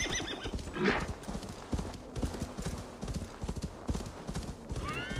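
A horse galloping in Assassin's Creed Valhalla, with rapid rhythmic hoofbeats clip-clopping close and steady throughout, a brief whinny early on and another near the end.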